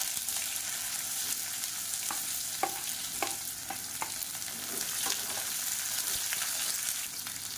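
Sliced onions with curry leaves sauté in hot oil in a pan for chutney, a steady sizzle broken by occasional clicks of a spoon stirring.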